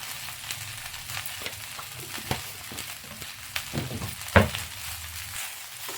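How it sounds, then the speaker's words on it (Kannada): Sliced okra frying in a tablespoon of oil with salt in a pan: a continuous soft sizzle with scattered clicks and scrapes from stirring, and one sharper clatter near the end. "ಸ್ವಲ್ಪ ಹೊತ್ತು ಚೆನ್ನಾಗಿ ಫ್ರೈ ಮಾಡಿಕೊಂಡ್ರೆ ತುಂಬ ಚೆನ್ನಾಗಿ ಬರುತ್ತೆ"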